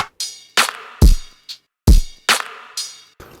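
A soloed electronic drum section from a trap-style drop: punchy booming kicks, bright snappy claps and short hi-hat ticks in a tight rhythmic pattern, loud and dry with no voices.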